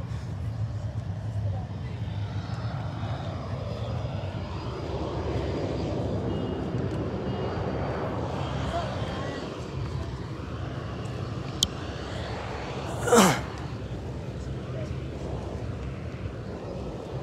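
Steady, close engine and rotor drone inside a helicopter cabin in flight over Kathmandu, continuous and fairly loud, with a brief click and a short whooshing sweep partway through.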